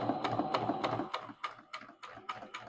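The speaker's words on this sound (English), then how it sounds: "Sew along the edge of the folded over casing so that you have a nice little pocket to fit the elastic into" Sewing machine stitching along the folded edge of a fabric casing for elastic, a rapid rhythmic mechanical clatter of needle strikes, close up, with a brief pause before the stitching picks up again in regular pulses.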